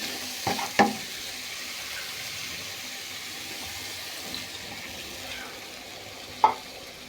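A spice paste of turmeric, garlic paste, onion paste and salt frying in a pan for a prawn curry gives a faint, steady sizzle with a few sharp clicks of utensil on metal.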